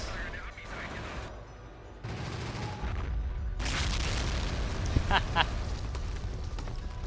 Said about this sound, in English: This two with 105mm gun quickly destroying those ranges.